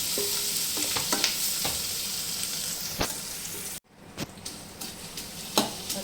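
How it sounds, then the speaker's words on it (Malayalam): Onion, ginger, green chilli and curry leaves sizzle and fry in a pan for a savoury noodle upma, with a steady hiss broken by sharp clicks and scrapes of stirring, a brief drop to quiet, then resumed frying. "ഒരു ചെറിയ സവോള അരിഞ്ഞത്, പിന്നെ ഇഞ്ചി, പച്ചമുളക്, കറിവേപ്പില ഇട്ടിട്ട് നമുക്ക് ഒന്ന് വാട്ടിയെടുക്കാം."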